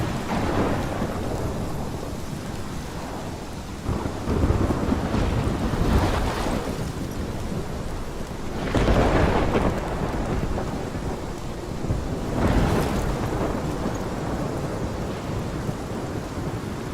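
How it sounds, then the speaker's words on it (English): Thunderstorm in the video game Life is Strange: steady heavy rain and wind with several rumbling thunder swells rising and fading at intervals, loud and continuous throughout. "This is my storm."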